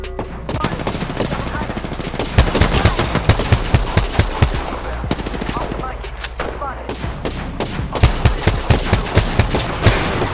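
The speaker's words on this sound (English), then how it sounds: "I'm getting shot at." Rapid gunfire in the Apex Legends video game, bursts of automatic weapon shots crackling continuously over a busy game soundscape, with sharp louder volleys standing out near the listener.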